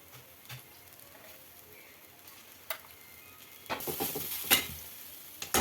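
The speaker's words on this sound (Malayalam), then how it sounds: "എന്നിട്ട് വീണ്ടും നല്ലതുപോലെ ഇളക്കുക" A spoon stirring mushroom thoran masala in a pan, with soft scraping and a low sizzle at first, then louder clattering stirs and a few sharp knocks near the end.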